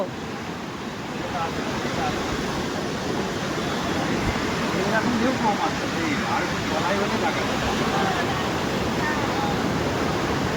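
Sea waves wash onto a beach in a steady, broad roar of surf that swells slightly after the first second, with voices faintly mixed in.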